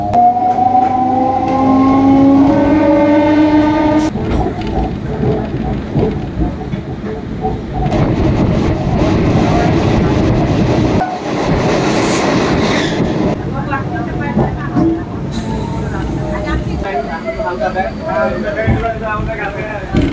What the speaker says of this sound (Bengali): কল্যাণী ঘোষপাড়া থেকে উঠলাম ট্রেনে, আর ট্রেন এই মুহূর্তে সম্পূর্ণ ফাঁকা।